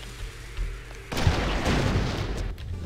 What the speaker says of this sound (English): Now we do a bit of a grenade jump.